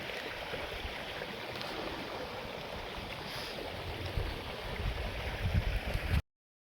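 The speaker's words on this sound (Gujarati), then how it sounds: "અને આપણે આમાં ઘઉંમાં પાણી ચાલુ છે" Irrigation water runs steadily through a wheat field, a continuous broadband rushing and gurgling wash that holds constant for about six seconds, growing slightly louder and more turbulent toward the end before cutting off.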